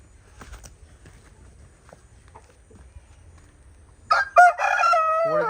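A rooster crows loudly at close range in a village yard, one drawn-out call rising out of quiet background with faint shuffling beforehand.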